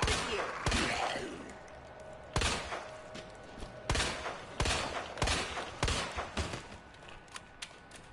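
Gunfire in the video game Resident Evil 2 against zombies, a string of sharp reports spaced about a second apart over a steady game backdrop, with faint mechanical clicks between shots.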